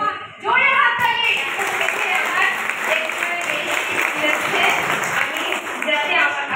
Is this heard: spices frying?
no